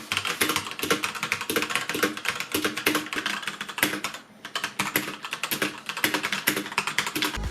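Continuous fast typing on a Drevo BladeMaster TE mechanical keyboard with Gateron switches, a dense stream of close, crisp key clacks with a brief slowdown midway.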